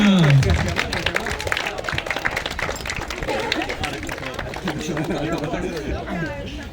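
Crowd applause and chatter for the winners at the Katyń memorial run, a historical race in Poland, with scattered clapping continuing under an announcer's voice and general crowd noise.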